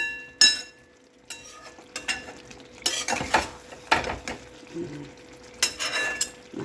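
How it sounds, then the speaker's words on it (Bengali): Hilsa fish frying in a pan, heard as a steady faint sizzle broken by scraping and clinking of a spatula against the pan in irregular bursts, with no speech. "মাছটা ভেজে"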